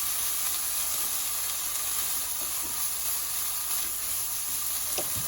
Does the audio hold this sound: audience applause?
no